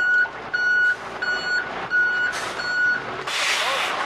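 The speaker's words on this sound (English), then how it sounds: "It's either a garbage truck backing up" Garbage truck reversing beeps from the video game You Don't Know Jack, a loud evenly spaced series of electronic beeps with hissing bursts like air brakes and some rumble.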